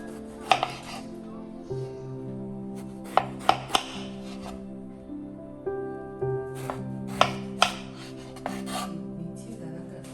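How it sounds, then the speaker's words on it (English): A knife chops eggplants into 4 to 5 cm sections on a cutting board, with a series of irregular sharp thunks and scraping sounds over a quiet background of soft, sustained music. "Then we proceed to cut the eggplants into 4 to 5 cm sections"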